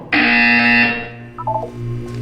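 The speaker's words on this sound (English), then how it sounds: "You will hear a buzzer." A harsh electronic buzzer in Portal 2 sounds loudly for about a second, then a short burst of quick electronic beeps over a low background hum.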